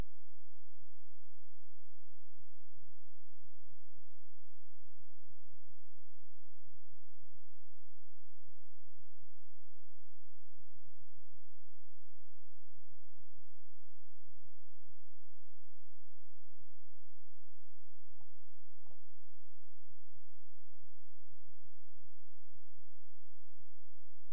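Computer mouse clicking while setting up Notepad++ for Java code: scattered short, sharp clicks, some single and some in quick pairs, at close range over a steady low hum.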